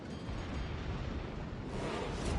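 Warship guns firing in World of Warships: Legends, an Iowa battleship among the ships, come through as a dense, steady roar of rumbling blasts with a swell toward the end, loud and continuous with no talk.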